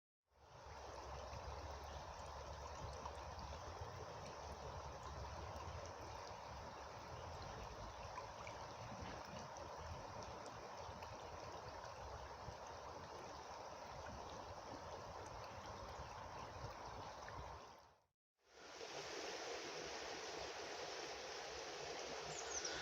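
The River Meaden flows past in a steady, unbroken rushing babble, close and even throughout, briefly cutting out near the end before resuming, with no voices.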